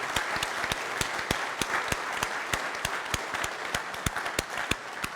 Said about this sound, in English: Please give Cookie Billings a huge round of applause.